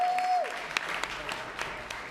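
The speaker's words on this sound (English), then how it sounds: "let's give another round of applause." Attendees at a city council meeting applauding public servants, moderate clapping following a brief tone, with scattered louder claps and faint voices underneath.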